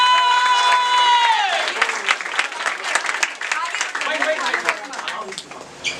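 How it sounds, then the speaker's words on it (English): An audience at a New Year celebration at an English café in India breaks into loud, sustained applause mixed with some cheering, starting as a tone fades out and continuing dense and steady to the end. "may we have a big round of applause?"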